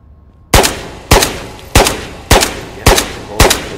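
Six loud, sharp gunshots from Ghosts of Tabor fire at an even pace about half a second apart, each with a short decaying tail, close and with no talking.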